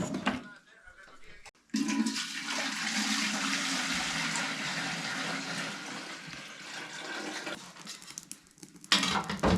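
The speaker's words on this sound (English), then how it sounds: "So I'm going to fill up this bucket." Water pours steadily from a storage tank into a bucket, a loud continuous splashing rush lasting several seconds, starting and stopping abruptly.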